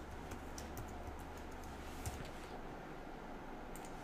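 Faint typing on a computer keyboard, with scattered soft key clicks and taps at an uneven pace over a quiet background hiss.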